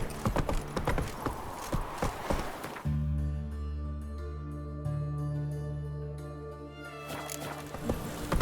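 Roach the horse trotting in The Witcher 3, rhythmic hoof clip-clops close by in a steady gait, with a brief stretch of sustained tones midway as the hooves continue underneath.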